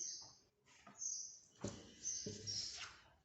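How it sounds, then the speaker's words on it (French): Small birds chirp quietly in short, high tweets that come in scattered bursts over a faint, quiet background. "on entend les bruits des petits oiseaux"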